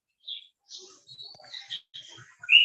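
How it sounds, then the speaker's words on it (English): Birds chirping outdoors, a series of short, bright tweets and calls in separate bursts with gaps between, moderately close, with no talk over them. "there's a lot of bird sound coming"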